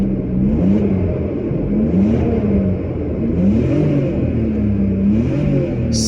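A BMW six-cylinder car engine revs at close range, its note rising and falling in repeated swells over a steady mechanical whir.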